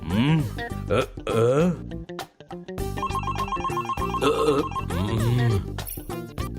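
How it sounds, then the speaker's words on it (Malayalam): A phone ringtone plays loudly, a tuneful, sung-sounding melody that runs almost without pause for several seconds. "പിന്നെങ്ങനെയാ ഫോൺ ശബ്ദിക്കുന്നത്?"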